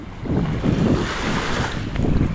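Sea waves wash onto a beach at Botolan, Zambales, a continuous low surf roar with heavy wind buffeting the microphone and no voices.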